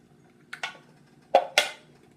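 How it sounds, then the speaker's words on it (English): Eggs knocked into a measuring cup in two quick pairs of sharp clinks and taps, close and crisp against a quiet kitchen background. "I'm going to take a separate measuring cup and I'm going to put the 4 eggs in."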